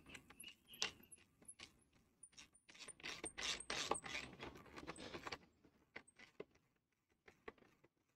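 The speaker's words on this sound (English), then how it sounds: "Now let's put the socket set on and see if that'll go through." A socket set ratchet drives a bolt through an FR4 fiberglass plate for a homemade sailboat mast tang, giving a close, steady run of crisp metallic clicks and rattles with no talking.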